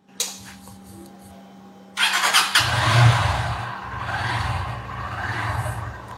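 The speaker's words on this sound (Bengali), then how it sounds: "বাইক স্টার্ট দেই।" A motorbike engine cranks and catches near the listener after a quiet stretch, then settles into a steady low idle rumble with traffic and drilling noise around it; no talking.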